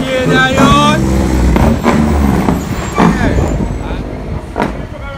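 An 18-wheeler truck rumbles loudly past at close range, its deep engine drone mixed with hissing, while people talk over it.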